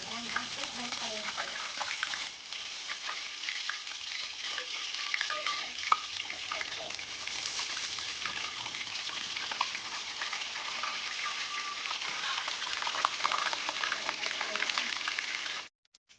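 Red grouper fish frying in a pan, a steady broadband sizzle that stays loud and even throughout, with faint speech-like sounds in the background.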